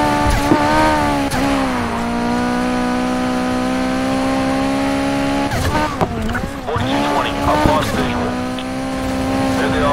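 A Ferrari 458 Italia races at high speed during a police pursuit in Need for Speed Heat, its engine holding a loud, steady high-revving whine, broken by brief shifts and tire squeals around turns.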